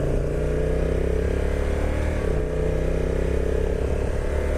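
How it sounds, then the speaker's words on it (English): A 2022 Honda NT1100 DCT motorcycle is ridden down the road, its engine droning steadily and loudly with slight pitch shifts as it changes speed, under heavy wind rush and no talk. "It's a nice bike and it certainly gets down the road well."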